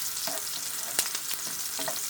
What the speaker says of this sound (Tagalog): ginigisa na natin yung sibuyas